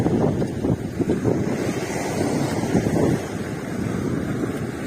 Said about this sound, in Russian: погода. Ну, ветрено.